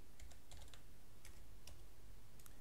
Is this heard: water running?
no